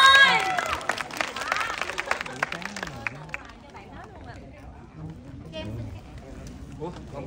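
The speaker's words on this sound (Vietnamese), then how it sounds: "vỗ tay quý vị ơi" Audience applause and crowd chatter at a Vietnamese fan meet-up with a director for the film Lật Mặt 6, clapping loudest at first then thinning under overlapping voices and speech.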